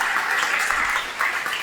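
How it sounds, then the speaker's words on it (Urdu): A church congregation applauds at a Sunday service, a steady, sustained wash of clapping with no break. "آئیے خدا یسوع مسیح کے لیے زوردار تالیاں بجائے"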